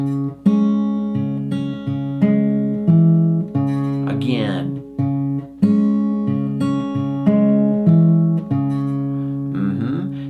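Acoustic guitar fingerpicking: plucked notes ring out one after another in a steady, arpeggiated pattern, with a brief word spoken partway through.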